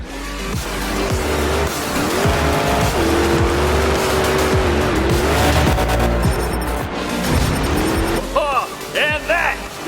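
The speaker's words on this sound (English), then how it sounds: "And that is a heck of a sky wheelie. Makes a perfect donut." Monster truck at a Monster Jam freestyle event roaring through a sky wheelie and spinning a donut, its engine loud and continuous with rising and falling revs, tire squeal and crowd noise over a commentator's voice.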